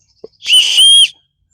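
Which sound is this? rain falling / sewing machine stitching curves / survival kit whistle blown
survival kit whistle blown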